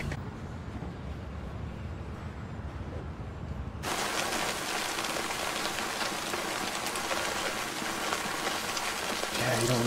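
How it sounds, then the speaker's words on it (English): Steady rain pours in a scene from the Chernobyl TV drama series, a dense continuous hiss that starts muffled and low, then cuts abruptly to a brighter, louder, close downpour drumming on surfaces for the rest of the clip. "Yeah, you don't want to be out in that rain."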